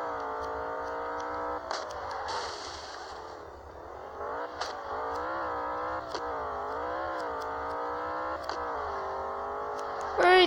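Engine of a Volkswagen Beetle (Fusca) in a driving video game revs steadily with rising and falling pitch sweeps over about ten seconds, with a few clattering knocks and scrapes from a battered car, under an ongoing mechanical whine.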